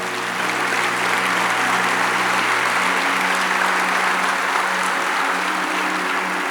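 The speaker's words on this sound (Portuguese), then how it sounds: "O jovem rico, pode aplaudir ao Senhor?" A church congregation applauds during a sermon, a steady, dense wash of clapping from many hands that holds at an even level throughout.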